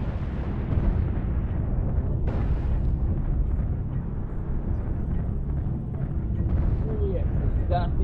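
Rapid gunfire and explosive bursts in the shooting game Canyon Conquest 2, steady and dense throughout, with booming impacts and a sharp pop near the end.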